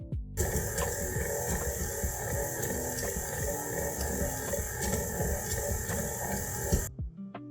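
A stand mixer kneads flour dough with a dough hook, giving a steady, loud motor hum with a rhythmic mechanical churning that runs continuously for about seven seconds and then stops.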